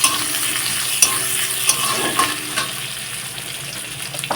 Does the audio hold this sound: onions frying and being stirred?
yes